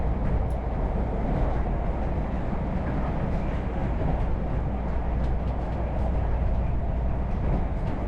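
A Purple Line Express train runs along an old embankment track, a continuous loud rumble and rattle of wheels and cars with no break, heard from on board.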